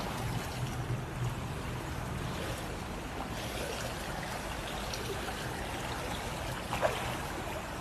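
An underwater streamline push-off by a swimmer in a pool, heard as a steady muffled wash of water with a brief bubbly splash near the end, without speech.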